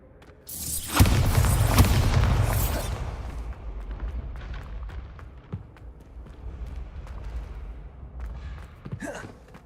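A Bombarda spell explosion in Hogwarts Legacy: a heavy boom bursts out loud and rolls on for a couple of seconds, then fades into a quieter rumbling tail with scattered small clatters.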